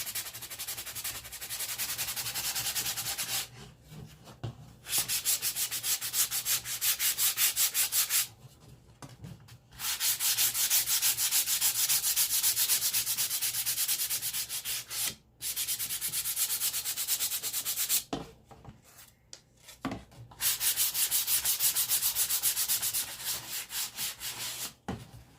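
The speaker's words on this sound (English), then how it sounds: "I'm sanding with the grain of the wood." Wood is hand-sanded along the grain in long, steady strokes, a loud dry rasping scrape that runs in bursts of several seconds, broken by short silent pauses.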